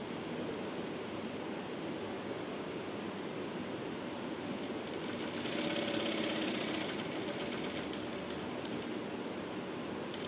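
A sewing machine runs a straight stitch on a kurta, making a faint steady mechanical whirr with light rhythmic ticking that swells a little louder midway, with no talking.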